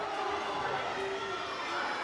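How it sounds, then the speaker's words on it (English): Crowd noise in a gym at a high school basketball game between Auburn and Beauregard in Alabama: a continuous distant roar and chatter, with a sneaker squeak near the middle. "You can hear the crowd right now."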